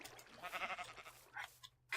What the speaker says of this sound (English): These sheep are rather valuable.